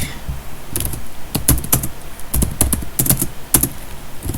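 Keys clatter in uneven bursts of typing code on a computer keyboard, sharp clicks clustered in quick runs with short pauses between, close up and moderately loud.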